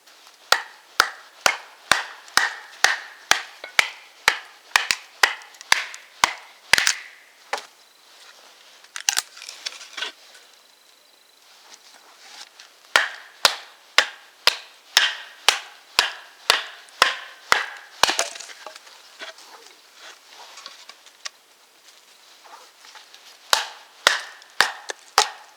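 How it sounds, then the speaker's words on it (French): Sawn wood being batoned with a knife at a winter bivouac campsite, a close series of sharp rhythmic knocking strikes in quick bursts with short pauses between runs. "Je vais venir maintenant un petit peu rebâtonner le bois que j'ai scié tout à l'heure pour lancer le feu."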